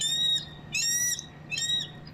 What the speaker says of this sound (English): The noise comes from these speakers blasting the shrieking sounds of birds of prey.